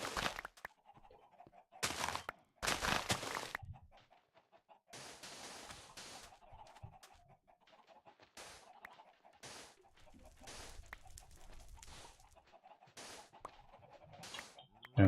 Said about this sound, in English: And those chickens don't shut up.